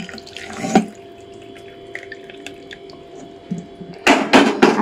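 Reserved water is poured into a pot of mashed dried red chilli and rice curry: a brief splash early on, a quiet stretch, then a louder, sustained gush of pouring near the end, with no voices.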